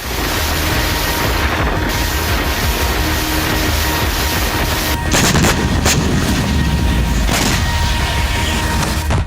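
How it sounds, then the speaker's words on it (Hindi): Russian navy warships fire artillery at sea in the North Pacific, giving loud, heavy booms over a constant roar, with a burst of strong blasts near the middle. "रूस की वॉर फ्लीट ने ताबड़तोड़ अंदाज में बारूदी कोहराम मचाया"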